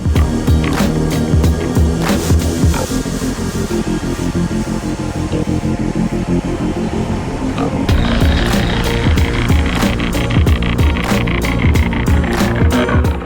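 A sailboat's motor runs steadily while the boat motors along off Cape Verde, a constant loud droning rumble with rattling and knocking noises that grow busier in the second half.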